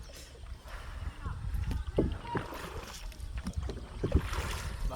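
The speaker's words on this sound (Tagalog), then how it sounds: "Marunong din pala magbangka." Rowing a small wooden bangka outrigger boat across open water to a neighboring village, with paddle splashes and water sloshing under steady wind noise while voices talk nearby.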